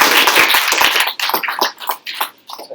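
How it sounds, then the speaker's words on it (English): An audience at a Startup Grind event in Chennai applauds with dense, close clapping that thins into scattered individual claps and fades out within a few seconds. "can you give him a big round of applause?"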